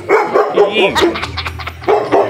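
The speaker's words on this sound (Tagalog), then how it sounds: "Dito may mga aso rito." Several dogs bark loudly and close by at a cemetery in a series of sharp, irregular barks mixed with yips and a brief whimper, alongside people talking.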